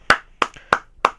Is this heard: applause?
yes